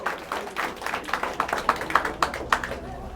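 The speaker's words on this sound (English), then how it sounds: "Round of applause, please," A small audience clapping at a Grand Seiko Spring Drive presentation, a short patter of hand claps that firms up into a few sharper, distinct claps close by, with no talking over it.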